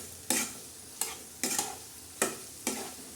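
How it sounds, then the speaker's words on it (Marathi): Fenugreek leaves and potato stir-fry being stirred in a pan, a spatula scraping in five sharp separate strokes with a faint sizzle between them, close and alone. "मस्त आता हलवत राहायचं"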